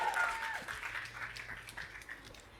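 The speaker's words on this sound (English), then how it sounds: "So, round of applause, Molly, over to you." An audience at a recruiting talk claps in a thin, tapering round as a presenter takes the stage, the patter fading over a couple of seconds with a murmur of voices underneath.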